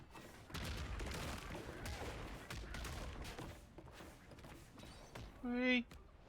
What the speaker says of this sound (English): Everyone loves a cannon firing.